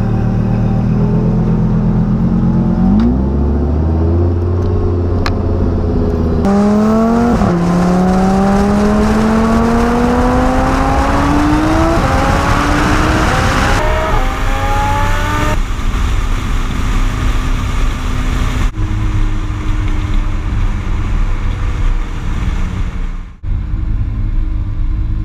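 A Ferrari sports car's engine revs and pulls away, its pitch climbing through repeated rising sweeps over a heavy rumble. It then settles into a loud, steady drone as the car drives on, close and dominant.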